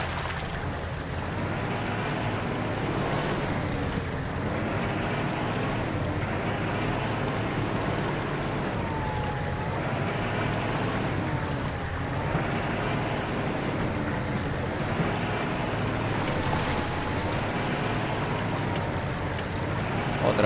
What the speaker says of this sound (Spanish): llegamos a un cruce de agua